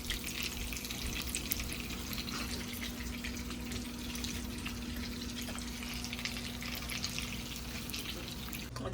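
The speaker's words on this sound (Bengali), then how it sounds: "মাছ, চিংড়ি মাছ ফ্রাই করতেছে" Shrimp frying in a pan on a home stove while pilaf and chicken cook nearby, a continuous close sizzle with light crackling and a faint steady hum underneath, no talk.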